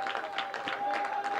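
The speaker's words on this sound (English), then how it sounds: "Rhythmic clapping from the Bobcat dugout and fans here at the Wren" Rhythmic clapping from the Ohio Bobcats dugout and fans at a college baseball game against Northern Illinois at the Wren, top of the ninth, with a steady beat of claps and crowd noise throughout.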